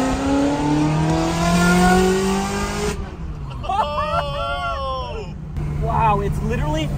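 A powerful V8 supercar engine roars and revs loudly, then drops away as people talk over a quieter idle near 1,000 rpm before revving again.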